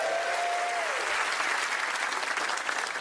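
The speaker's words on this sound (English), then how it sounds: "Give yourselves a clap." A television studio audience breaks into sustained applause, a dense wash of many clapping hands, loud and close, running the full length with a brief tone at the start and no talk over it.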